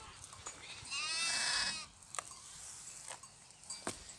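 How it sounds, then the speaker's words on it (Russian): A sheep bleats once, loud and wavering, near a house in the Sardinian countryside, with faint clicks and knocks in a quiet outdoor setting before and after. "Вот такие овечки, которые подходят буквально к дому."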